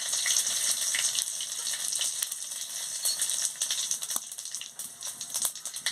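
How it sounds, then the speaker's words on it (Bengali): Five-spice and dried red chillies hit hot oil in a wok, giving a steady, loud, close sizzle with crackling spits and pops throughout, and no voices. "তেল গরম হয়ে গেছে, 5 ফোড়ন আর শুকনো লঙ্কাটা দিয়ে দিচ্ছি"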